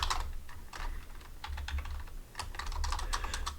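Rapid keystrokes on a computer keyboard, close and clear, arriving in quick bursts with brief pauses between words, over a low steady hum.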